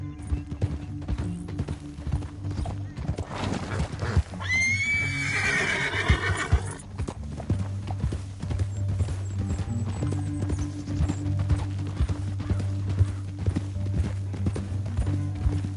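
Horse hooves clip-clop steadily through the Red Dead Redemption 2 game scene, with a loud whinny breaking out midway before the rhythmic hoofbeats carry on alone.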